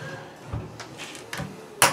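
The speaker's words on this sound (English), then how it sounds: "I'm going to shut the door." The door of a charcoal-fed smoker, loaded with beef brisket, is swung shut with some light rattling and a sharp latching clack at the end, close by.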